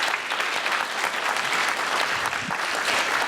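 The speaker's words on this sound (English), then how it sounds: "Let's give him a round of applause." An audience at a college Veterans Day ceremony breaks into steady, dense applause for an honoree. The clapping is continuous and evenly loud with faint crowd noise mixed in.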